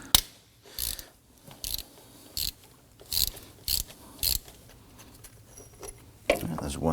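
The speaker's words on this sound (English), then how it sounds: "Going to use our 10mm socket and our extension here." Ratchet with a 10mm socket and extension working bolts loose on a 2003-2014 Volvo XC90 during serpentine belt tensioner replacement, heard as short, close bursts of clicking, about seven spaced ratchet runs with brief pauses between.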